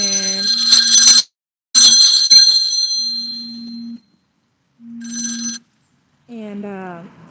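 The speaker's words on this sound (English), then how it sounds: "pardon me, phone ring." A telephone bell rings in loud repeated bursts, with pauses between rings and a steady low hum running underneath, and a voice speaks briefly toward the end.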